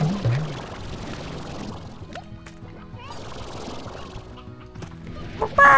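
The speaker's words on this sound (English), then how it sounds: "A lot of chickens over here." Chickens cluck in the video game Slime Rancher, with scattered short calls over a busy, clattering game background at moderate loudness.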